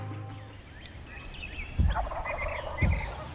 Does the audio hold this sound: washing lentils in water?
no